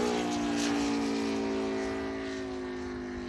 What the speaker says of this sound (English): Definitely something super cool about the sound of these motors